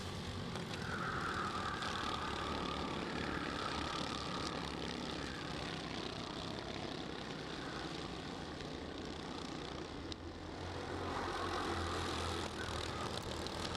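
Racing kart engines at the Motorsport Ireland National Kart Championship at Kiltorcan. They make a continuous, fairly distant droning whine that swells and fades as the karts pass, with no talking.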